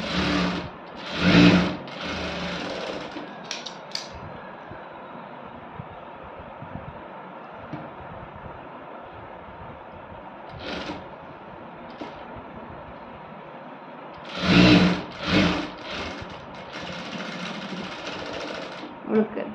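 A sewing machine stitches the open edge of a sleeve with a steady mechanical whir that runs throughout, rising into a few louder fast bursts near the start and middle, while a person talks over it.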